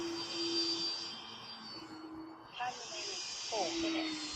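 An E-Flite Air Tractor RC airplane flies with a thin, high electric whine that dips and returns as it passes, while someone talks over it.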